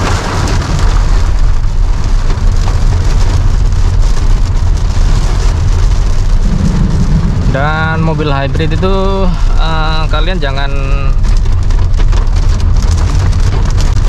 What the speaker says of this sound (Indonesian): Suara hujannya kalau dari atapnya sih nggak lumayan kedengeran ya